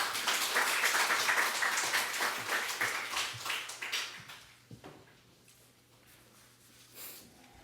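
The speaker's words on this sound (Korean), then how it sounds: "박수로 환영해 주시기 바랍니다" A church congregation applauds at a Korean baptism service, a dense, loud burst of clapping that tapers off, leaving quieter room sounds and a few isolated knocks.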